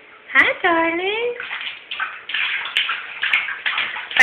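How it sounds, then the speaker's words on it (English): A toddler splashes water in a bath, with bursts of sloshing and splashing close by, mixed with a child's high vocal sounds and an adult speaking. "Oh, boy, that's a big splash."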